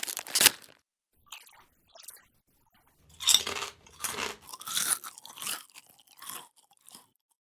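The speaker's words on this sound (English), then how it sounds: "the unmistakable, soul satisfying crunch of a potato chip" Sharp, close crunches of a potato chip being bitten and chewed, a loud first snap followed by a run of smaller crackling bites separated by short silences, with no voices.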